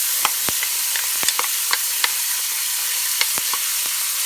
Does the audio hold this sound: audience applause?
no